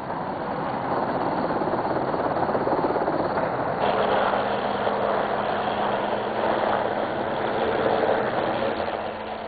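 Steady rotor and engine drone of a military helicopter ferrying troops to forward positions in the Falklands, a constant near roar filling the whole span with a low hum joining partway through.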